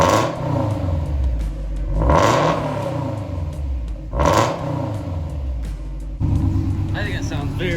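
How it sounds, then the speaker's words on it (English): A 2005 Subaru STI fitted with a big turbo is revved from a warm idle, with repeated rising and falling engine blips, deep rumble and turbo whir close by, and a brief clatter near the end. "I'll rev it for you"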